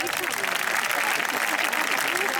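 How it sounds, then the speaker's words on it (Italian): A large crowd at the opening ceremony of a children's festival gives Monsignor Livio Corazza sustained, dense applause, loud and even throughout, a continuous roar of many hands clapping together. "Un applauso a Monsignor Livio Corazza."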